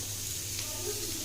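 Cauliflower fries in a pan, giving a steady, close sizzle and hiss of oil with no break.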